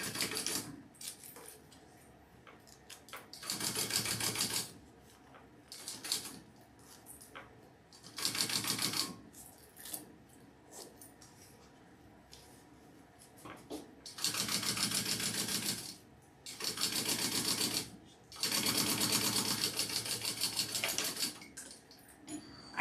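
Sewing machine top stitching a med bag, running in several bursts of rapid mechanical stitching, each lasting a second or a few, separated by quieter pauses with faint handling noise.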